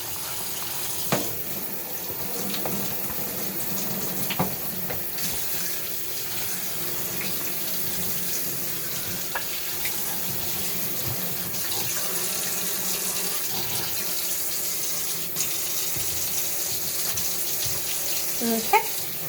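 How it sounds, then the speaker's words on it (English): A kitchen faucet runs steadily into a sink while meat is rinsed under it, a constant close water rush with small splashes and clatters, no talk. "So, I will rinse this off real quick."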